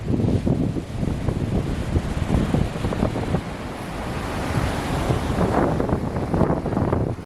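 Strong ocean waves roar and churn continuously, mixed with gusty wind buffeting the microphone.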